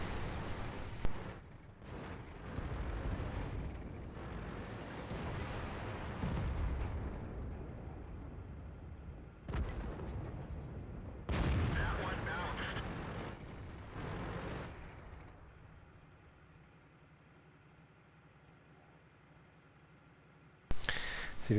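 Tank cannon shots in a video game boom out as several heavy blasts with rumbling tails, separated by short gaps and closing on a sharp final report.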